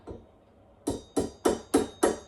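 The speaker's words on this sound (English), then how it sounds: "you just want to tap it in with a hammer, but you want to be very gentle with it" Five gentle hammer taps on a metal woodruff key being set into an engine crankshaft, evenly spaced after a short pause, close and crisp with nothing else around them.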